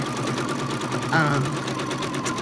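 A sewing machine stitching a meander quilting pattern whirs at a steady, close, moderate level, with its motor hum and rapid needle rhythm running continuously.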